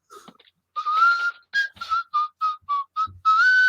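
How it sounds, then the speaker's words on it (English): A person whistles a melody from an Otis Redding song recording: a long opening note, then a run of short, clipped notes at a steady rhythm, closing on a held tone, clear and close with no talking. "So that whistling was because the song wasn't finished."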